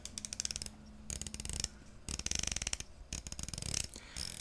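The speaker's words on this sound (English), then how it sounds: "I love the bezel action on these watches. It's just so crisp." The bezel of a Marathon GSAR Anthracite watch is turned in several bursts of rapid, crisp ratcheting clicks, close and quiet, with short pauses between turns.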